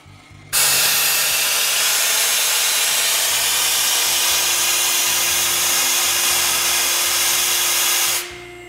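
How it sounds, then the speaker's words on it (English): An oil pump on an accumulator power supply system switches on by itself, a loud steady hissing whir that holds level for several seconds and then stops abruptly. "You can see that an oil pump automatically came on"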